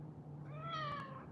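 A pet cat gives a single drawn-out meow with a rising and falling pitch, fairly close and clear, over a steady low room hum.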